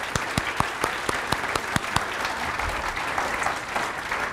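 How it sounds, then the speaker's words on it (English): Audience applause at an elementary school closing ceremony, starting with several distinct sharp claps that quickly swell into steady, dense clapping from a crowd across the hall. "We can clap, absolutely."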